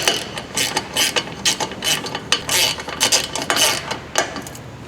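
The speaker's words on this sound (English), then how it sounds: "Using a 17, I'm going to snug the center one up." A ratchet with a 17 mm socket snugs ball joint bolts on a 2008 Honda CR-V, giving rapid, close clicking bursts of the pawl in an uneven rhythm of short strokes, with no voices.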